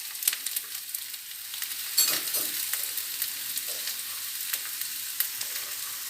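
Potatoes sizzling as they drop into a hot pan, a steady crackling fry with sharp pops and a burst of spitting midway, faint and close with no talk.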